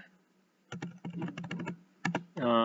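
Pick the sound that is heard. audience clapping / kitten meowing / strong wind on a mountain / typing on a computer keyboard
typing on a computer keyboard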